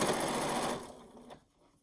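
A sewing machine stitches binding onto the edge of a quilt, right along the binding's fold. It gives a loud, steady whir that runs close up for under a second, then stops and fades into quiet.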